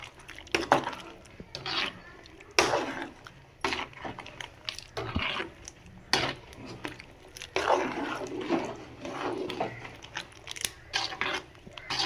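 Chicken gravy being stirred in a pan with a coconut and roasted gram paste, giving irregular scraping, clinking and wet bursts of a spoon against the pan, close and fairly loud, with no voice.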